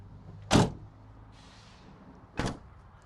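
Rear side sliding door of a Fiat Talento van thuds twice, once near the start and again about two seconds later, each a short muffled clunk in a quiet interior with no voices.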